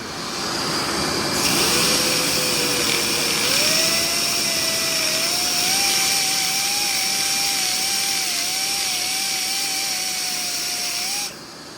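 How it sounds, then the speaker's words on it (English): A die grinder blending metal on a BMW M20 engine block, a loud continuous high whine with its pitch wavering slightly as the tool works, running steadily for about ten seconds before cutting off. "a couple minutes with a die grinder while we've got the block apart"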